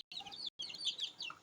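Desi chicken chicks chirp close by in a rapid overlapping cluster of high, thin peeps, briefly cut by a short silence.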